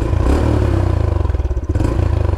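A stock 2021 Honda Trail 125 growls through its exhaust while riding at speed. The small engine drones loudly and continuously, with a pulsing rhythm and wind noise close to the microphone.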